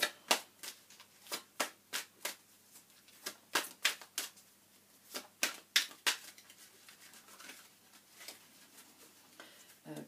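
Romance Angels oracle cards are shuffled close up, giving a steady run of sharp, papery snaps and riffles in quick irregular bursts, with no talking.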